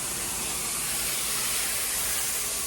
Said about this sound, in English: And now we just spray both from the outside in and from the inside out.